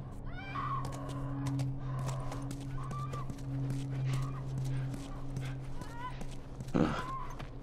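Horse in The Last of Us Part I on PS5, snorting and whinnying amid hoof and gear sounds, moderately quiet game ambience with a sudden louder burst near the end.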